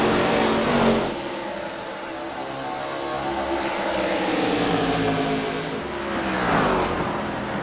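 An ARCA race car roars down the front straightaway at Iowa, its loud engine note sweeping up and down in pitch as it passes, steady and close throughout.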